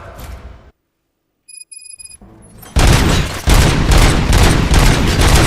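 Gunfire in the RoboCop video game, a sustained loud burst of rapid shots that follows a brief silence and a few electronic beeps.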